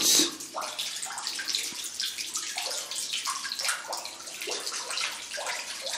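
Water runs and splashes steadily from the Tala n Tmalutt stone fountain in Kabylie, a close, continuous bright trickle and patter.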